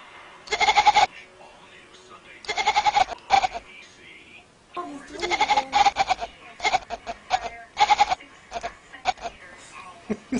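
A cat gives repeated bleating meows that sound like a baby goat, coming in short wavering bursts close to the recorder, with people talking and laughing between the calls.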